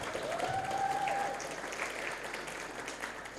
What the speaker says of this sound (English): Please give applause to the speakers from 28 and also 29.